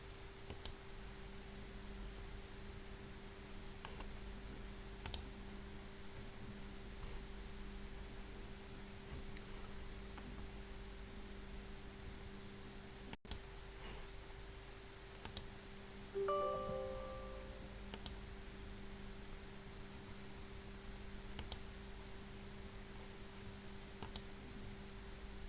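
Computer mouse clicks on a Windows PC while downloading software, a few faint isolated clicks scattered over a quiet room hiss and steady electrical hum, with one brief tonal blip partway through.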